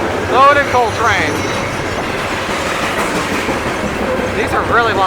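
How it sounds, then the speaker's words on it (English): A long CSX freight train loaded with coal passes close by, continuous heavy rolling rumble with wheel clickety-clack and short metallic squeals near the start and end, no voices. "These are really long trains."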